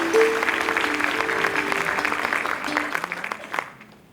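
An audience claps to welcome the chief guest at an institute orientation gathering, a dense round of applause that stays steady, then thins and fades out near the end.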